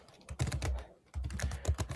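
Rapid keystrokes on a computer keyboard, clustered clicks in two bursts separated by a brief pause, fairly close and alone without talk.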